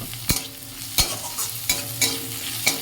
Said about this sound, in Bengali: এই দেখো বন্ধুরা ভেন্ডিটা ভাজছি